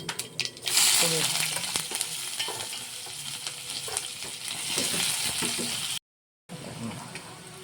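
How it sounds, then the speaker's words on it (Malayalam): Mustard seeds crackle in hot oil while tempering a potato curry, a busy sizzle with quick pops and stirring clinks close by, cutting out briefly near the end. "എണ്ണ ചൂടായതിന് കടുക്,"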